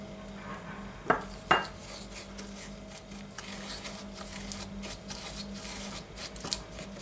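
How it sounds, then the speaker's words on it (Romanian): Salt and honey are mixed in a small bowl, with a utensil scraping and clinking close by: two sharp knocks early on, then a steady run of light scrapes and taps, with no voices. "Amestecăm sarea cu mierea."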